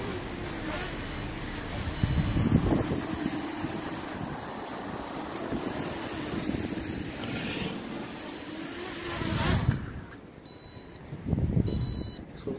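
MJX Bugs 3 Mini quadcopter drone, flown on Deviation firmware with a Devo 10 transmitter, whirring steadily with rising and falling motor surges and wind buffeting, followed by repeated electronic low-voltage alarm beeps near the end.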